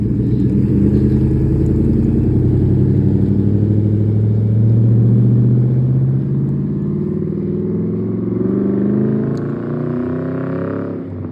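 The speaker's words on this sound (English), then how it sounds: "This truck that sat there my whole investigation is now driving away now that I'm walking away." A loud truck engine rumbles close by and pulls away, its low drone rising and shifting over about eleven seconds with no talk.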